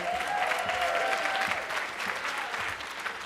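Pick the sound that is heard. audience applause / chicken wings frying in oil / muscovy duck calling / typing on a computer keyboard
audience applause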